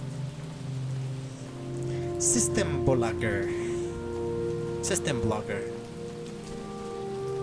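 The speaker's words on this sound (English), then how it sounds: "It's raining outside." Steady rain falls in the video game How We Know We're Alive, a constant hiss running throughout, with a voice speaking over it and game music tones layered beneath.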